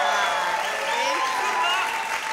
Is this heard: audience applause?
yes